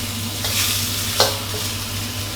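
Shiitake mushrooms and fresh shrimp stir-fry in a hot wok with oil, giving a steady sizzle with stirring scrapes and one sharp clatter near the middle, close and continuous with no talk.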